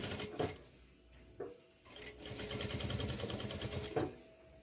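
A sewing machine runs a stitch along the edge of a zippered fabric pouch, whirring steadily at close range for several seconds between short starts and pauses, with no talking.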